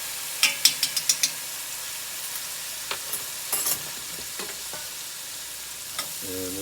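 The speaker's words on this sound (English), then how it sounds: "we're just going to stir that around a little bit" Roux mixture with browning and seasoning sauce being stirred in a pan for gravy, a low frying hiss under a quick burst of utensil taps and scrapes, then sparser clicks and stirs.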